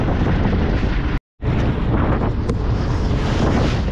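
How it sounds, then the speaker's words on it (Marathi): Strong wind roars and buffets the microphone continuously, a heavy broadband rush with a brief dropout, no voices. "हवा जास्ती आहे मित्रांनो, भरपूर हवा आहे आज"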